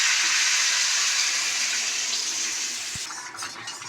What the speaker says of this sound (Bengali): এবারে জল দেবো, এবারে জল দিয়ে